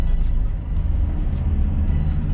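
A VW Caddy camper van drives along with a steady low engine hum and road rumble, constant and close, as if heard from inside the cabin.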